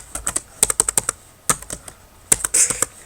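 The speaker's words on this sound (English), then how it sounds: "if I can type" Close keystrokes on a computer keyboard come in quick uneven bursts of clicks, with short pauses between runs and a brief cluster near the end.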